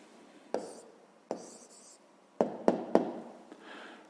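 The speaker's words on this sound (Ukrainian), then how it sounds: "Записуємо тоді відповідь." A pen writes out the answer to a fifth-grade maths exercise on decimal fractions, giving a handful of distinct scratchy strokes and taps close by against a quiet room, with no talk.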